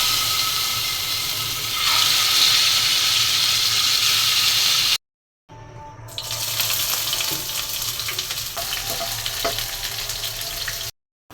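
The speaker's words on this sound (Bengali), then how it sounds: "এখন এই তেলের মধ্যেই মাছটা ভেজে নিচ্ছি।" Fish fries in hot oil, producing a dense, continuous sizzle that briefly cuts out, then resumes with crackling pops and faint utensil clicks.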